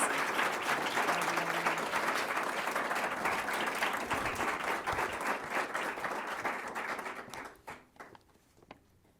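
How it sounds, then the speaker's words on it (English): An audience at a school board recognition meeting applauds award winners, a steady round of clapping that holds for several seconds, then thins out and fades to a few scattered claps. "if we could give a round of applause for all our Bobby G winners"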